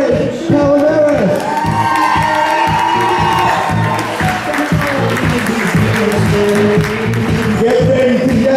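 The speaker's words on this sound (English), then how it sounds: "Clap your hands for Bridesmaid Sarah Green and Goofness Kate" Wedding guests at a golf and tennis club reception cheer, whoop and clap loudly and steadily as the bridal party is introduced, with a voice over the crowd.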